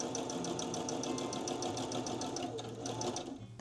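A sewing machine stitches along fabric edges, a fast, steady mechanical whirring with crisp rhythmic ticking, close and continuous, slowing slightly near the end, with no talking.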